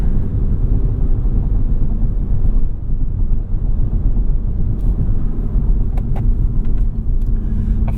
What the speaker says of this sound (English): So a quick launch control start for y'all.